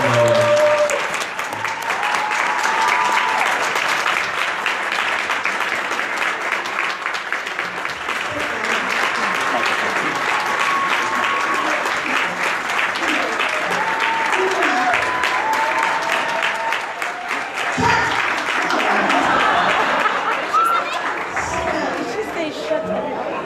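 An audience applauds to welcome a speaker, sustained dense clapping mixed with cheers and crowd chatter, with voices talking over it near the end.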